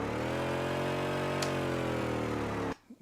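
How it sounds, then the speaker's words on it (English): A car engine in the video game Traction Point revs under acceleration, a loud steady droning hum with strong low tones that cuts off abruptly near the end. "So my feeling here is that this engine sound is a little too loud. If I press the accelerator here,"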